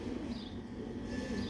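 A pure-bred Sialkoti pigeon coos close by in a soft, low, steady purr, heard alone with faint background hiss.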